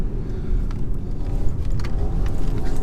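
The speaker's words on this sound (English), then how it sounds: "Right, let's give it a sort of launch. Yeah, defo runs out of puff up in the higher rev range." A 2019 BMW 320i launches and accelerates hard, its engine rumbling loud and steady from inside the cabin, with faint ticks and clunks over the drone.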